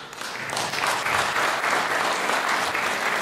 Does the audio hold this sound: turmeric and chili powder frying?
no